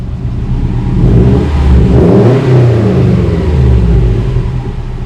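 A loud, raw Subaru STI engine with its muffler removed revs up and rumbles, its pitch rising then falling as it accelerates close by with no voices over it.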